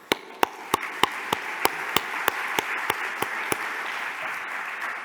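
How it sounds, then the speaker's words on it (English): A small audience in a big event hall gives sparse applause for the event helpers, a few distinct claps repeating at a steady rhythm over a faint murmur, thinning out toward the end. "So please also join me and applaud them."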